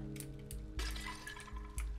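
Water dripping from a leak in the video game Stray, with soft repeated drips over a steady tonal background.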